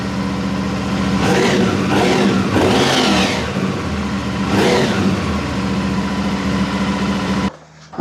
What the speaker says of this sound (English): Come around, get a look at the exhaust, and I'm gonna rev it.